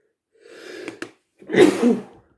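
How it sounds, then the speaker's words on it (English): A single close sneeze: a short sharp inhale and catch, then a loud explosive burst, with no talking. "I did not mean to sneeze"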